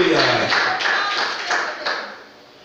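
Church congregation applauding during a worship service, a dense, steady wash of many hands clapping together at close range, fairly loud, with rhythmic pulses in the clapping that fade toward the end.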